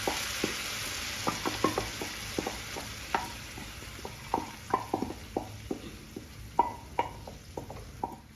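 Cooked horse gram and its cooking water go into onions frying in a pan for a thoran, with a steady sizzle under a run of sharp spoon clacks and scrapes against the pan, close up with no talking.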